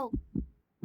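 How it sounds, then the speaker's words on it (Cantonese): In a cartoon, an unborn baby's heartbeat is heard inside a mother rabbit's belly as three soft, low thumps in a slow, even rhythm, close and quiet. "你聽唔聽到好細聲嘅心跳聲啊？"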